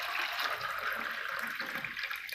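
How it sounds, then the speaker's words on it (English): Water poured by hand into pipes fitted with four cut refill tubes makes a steady close splashing, gushing trickle that runs evenly throughout with no voices. "Now take some water and pour it."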